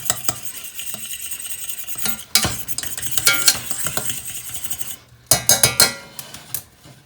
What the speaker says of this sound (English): So we're just gonna whisk this until the butter and the Hollandaise packet are fully incorporated.